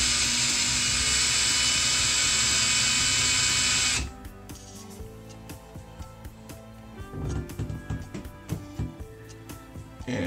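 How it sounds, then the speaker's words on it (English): A loud, steady power drill whines for about four seconds boring into plastic, then stops, leaving quieter clicks and knocks of handling. "Now I will drill a hole"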